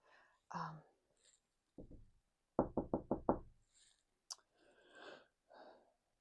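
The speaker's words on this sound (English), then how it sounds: "Just knock. Okay. Yeah. Just knock." Knuckles rap on a door, first in a short pair and then in a quick run of five crisp knocks, close and fairly loud, with whispered speech before and after.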